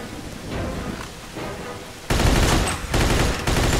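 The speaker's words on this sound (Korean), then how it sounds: "아 기관총 역시 따발총이야" Machine gun fire in the Mafia II video game rattles in rapid continuous bursts, loud and close, swelling sharply halfway through and then pausing briefly before resuming.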